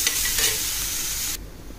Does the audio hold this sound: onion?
yes